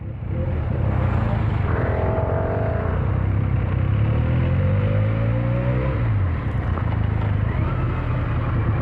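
Benelli 302 motorcycle ridden on a test ride, its exhaust droning loud and close with rising and falling revs as it accelerates and shifts, steady engine note throughout with no talk.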